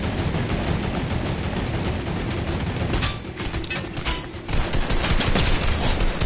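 A heavy turret fires in a Fortnite or Warzone match: loud, rapid bursts of automatic gunfire hammer on continuously, dipping briefly in the middle before resuming at full intensity.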